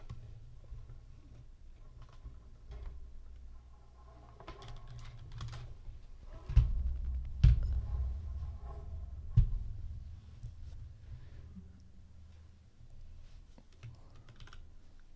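Soft, steady typing on a computer keyboard during a digital painting session, with scattered quiet key clicks and a few louder taps over a low background hum.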